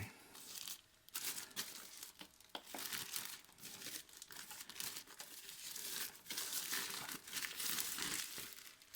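Sealed plastic wrapping around a Bomaker GC555 LED HD projector crinkles and rustles continuously up close, in loud crackling bursts while the device is handled and unwrapped.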